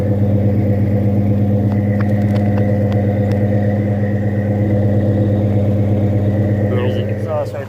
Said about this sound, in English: I'm not hurting my motor revving it.